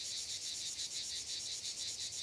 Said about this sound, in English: Better wildlife sounds while in the wilderness.